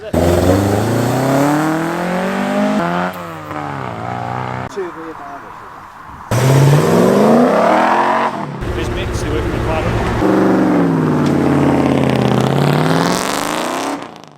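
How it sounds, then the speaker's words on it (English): A Mazda MX5 engine warming up at a classic car meet on a chilly morning, revving repeatedly in loud rising and falling sweeps with brief idle gaps between, while someone talks over parts of it. "So we've got the Mazda MX5 here, warming up"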